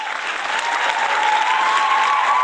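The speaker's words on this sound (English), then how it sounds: "let's give Mr. Gibson one more huge round of applause," A large audience applauds a guest speaker at an awards ceremony, steady dense clapping sustained and fairly loud throughout, with no pauses.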